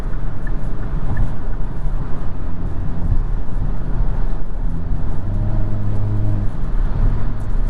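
A 2022 Hyundai Kona N drives under load, its turbocharged engine drone loud and continuous as heard from inside the cabin, with a rising tone building through the pull.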